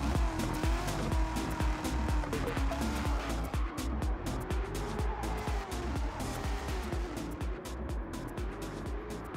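C3 Corvette Stingray with a swapped engine racing in Gran Turismo 7, the engine note rising and falling through corners with dense rapid tire squeal and skidding chatter, loud and continuous.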